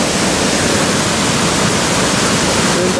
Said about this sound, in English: We made the Cove Creek, our sixth waterfall of the day.